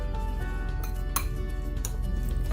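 A spoon works breadcrumbs into raw burger meat in a bowl, giving a steady run of soft clinks and scrapes against the bowl with a couple of sharper taps, close and moderately loud, with no talking.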